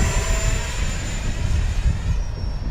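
A HobbyZone RC BAE Hawk jet with a 50 mm electric ducted fan passes by with a thin high whine that slowly drops in pitch, over rumbling wind and outdoor background noise.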